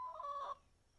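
A single chicken gives a short, faint cluck from close by, a brief nasal call that cuts off quickly into quiet.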